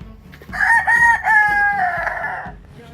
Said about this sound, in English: It's a band of roosters right here. They look like a Polish cross.